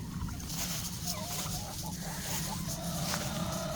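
Chickens cluck and murmur softly in a coop over a steady, noisy background hum, with a few faint higher calls mixed in.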